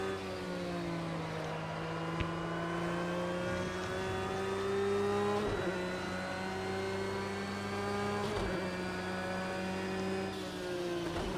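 Race car engines roar in Project Cars 2 during the 24 Hours of Spa endurance race: a steady, loud high-revving drone with rising pitch through each gear and sharp drops at upshifts, sustained throughout without talk.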